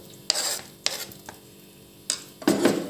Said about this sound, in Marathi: आणि हे टाकल्यानंतर व्यवस्थित असं मिक्स करून घ्यायचं आहे